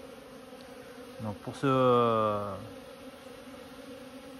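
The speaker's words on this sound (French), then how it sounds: "vous voyez, les abeilles, elles font un genre de 8" Honeybees buzz near the hive while flying figure-eight orientation flights, a close, droning buzz that swells for about a second among brief talk.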